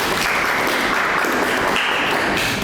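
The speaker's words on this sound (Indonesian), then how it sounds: "Kita berikan aplaus." Audience at a university lecture session giving applause, dense steady clapping that stays loud and close for the whole stretch.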